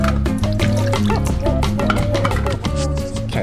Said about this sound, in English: Okay, that's the bottles emptied.